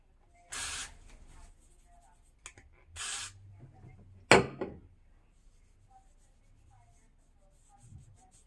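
Two short bursts of hairspray hiss out close by, each about half a second, with soft handling knocks and quiet pauses between them.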